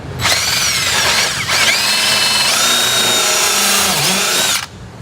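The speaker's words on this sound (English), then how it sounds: "right now we're just going to drill our pilot hole" A power drill bores a pilot hole for a Ford Raptor mud guard, a loud close whine that dips briefly near the start, then holds steady and shifts pitch before cutting off abruptly.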